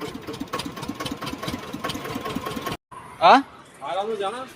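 A generator engine runs with a steady, even chugging idle, then cuts out abruptly; afterward a person speaks over a faint background.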